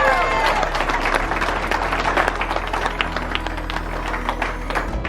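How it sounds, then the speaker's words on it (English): A small crowd at a strength-training lifting meet claps and cheers, a dense burst of applause that starts strong and thins out, with a voice talking over it. "All right, everybody give these guys a round of applause."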